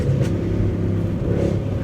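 A Mercedes C63 AMG under near-full-throttle acceleration, its engine a loud, steady low rumble close by with faint crackling exhaust pops mixed in.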